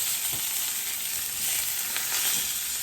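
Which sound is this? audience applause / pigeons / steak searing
steak searing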